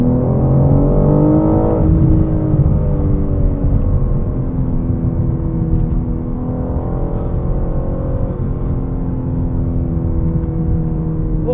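A 2022 BMW M4 Competition xDrive Convertible on warmed Pilot Sport 4S tires accelerates hard, its loud, close engine note climbing steadily in pitch with a shift near two seconds, then pulling again in a continuous roar.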